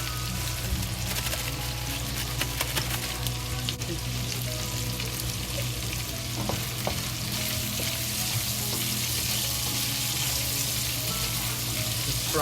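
Crispy sausage pieces and ginger fry in oil in a pan, giving a dense, continuous sizzle with occasional stirring scrapes, close and even in loudness throughout.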